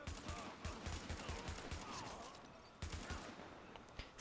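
Rapid bursts of submachine gun fire in The Division, a PC shooter, crackle in quick repeated volleys with a brief pause before the shooting resumes, fairly close but at low overall level.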